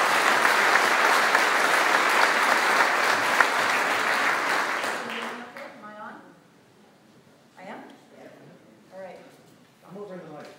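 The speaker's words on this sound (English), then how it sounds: "Round of applause for Lisa Stroup, please." Theatre audience at the Tower Theatre giving loud, sustained applause for about five seconds before it dies away, after which a speaker talks alone.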